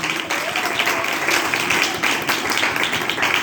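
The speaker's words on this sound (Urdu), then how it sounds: "زوردار تالیاں بجائیں." Loud, sustained applause from a church congregation during a Christian sermon, dense clapping filling the whole stretch with little variation.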